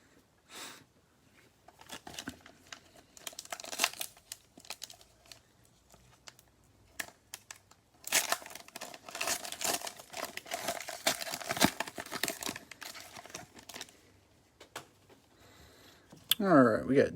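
Plastic trading-card sleeves crinkle and rustle as they are opened during a Panini Chronicles basketball card pack break, with bursts of crackling in two main stretches and a louder rustle at the end.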